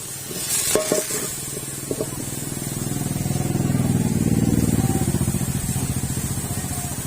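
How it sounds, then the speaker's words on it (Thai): Pork sizzles and crackles in a hot pan, the frying hiss swelling steadily over several seconds, with a few clinks of a utensil early on. "มาตั้งกระทะร้อนๆแล้วเขาก็จะรวนหมูก่อน"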